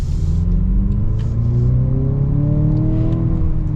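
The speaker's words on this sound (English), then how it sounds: "let's get our acceleration here" The four-cylinder engine of a 2023 Range Rover Velar R-Dynamic S SUV revs up steadily under acceleration, its pitch climbing over a deep rumble heard from inside the vehicle.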